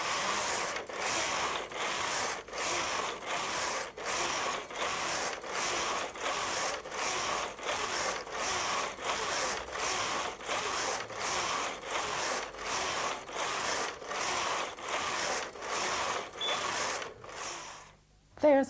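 A Brother Electroknit 950i knitting machine works a patterned row as the carriage passes, giving a steady, evenly spaced series of loud mechanical clacks and whirs that repeat roughly every half second before stopping with a final clunk.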